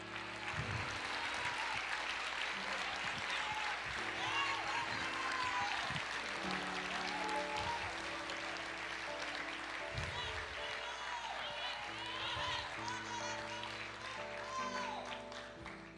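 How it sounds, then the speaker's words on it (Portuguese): A church congregation claps along with a preacher's voice for most of the stretch, a steady wash of applause from many hands under continuous speech. "Aplauda o Senhor Jesus."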